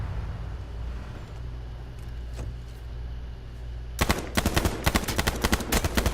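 Automatic rifle fire from a KH43 in the battle royale game H1Z1: after a few seconds of low engine-like rumble, a loud rapid burst of repeated shots erupts and continues in tight clusters to the end.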